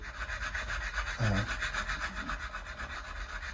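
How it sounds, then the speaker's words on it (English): A Stumac 300 grit fret recrowning file rasps back and forth along a flattened fret on a Squier Jazz bass, a steady continuous scraping with a slightly heavier stroke near the middle, close and alone. "Stumac recrowning file, this is a 300 grit grade of tool"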